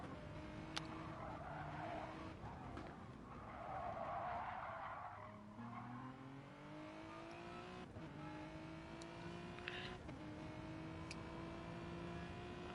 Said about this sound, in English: Thing's skidding all over the place.